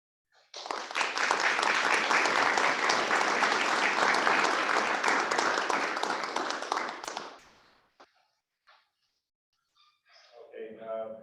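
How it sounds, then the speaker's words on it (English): Audience applause at a school board meeting swells quickly and holds as steady, dense clapping for about six seconds before fading out, followed by a few stray claps and then a voice speaking. "so we applaud it"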